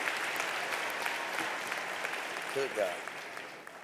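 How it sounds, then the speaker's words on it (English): Applause from a commencement audience fills the hall, a steady dense wash of clapping with a voice speaking briefly over it near the end. "Can we give another round of applause for making it through COVID?"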